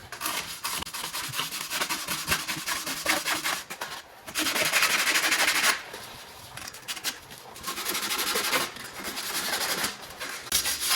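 Rear brake hub surfaces on a 2004-2008 Ford F150 Lariat Crew Cab being scrubbed clean, a loud, steady rasping rub in repeated bursts with brief pauses between strokes.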